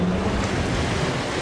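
The hull of a Heyman 42PPH decksaloon sailing cruiser slicing through waves under a reefed mainsail, giving a steady close rush of water and wind noise.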